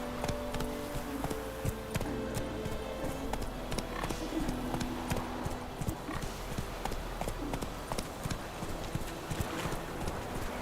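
A horse gallops in The Witcher 3: Wild Hunt with rapid, rhythmic clip-clop hoofbeats, loud and close, continuing for the whole stretch over a dense game background with a brief whinny-like tone.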